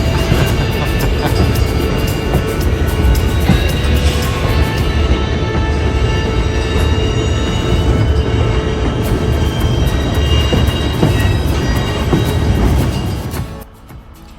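Loud, continuous rumbling and clattering of a White Pass and Yukon Route Railroad excursion train near Skagway rolling along the tracks, steady for a long stretch before fading abruptly near the end.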